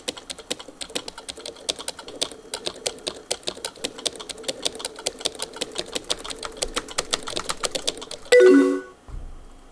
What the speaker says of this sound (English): if I hold it here, I'm just spamming my enter.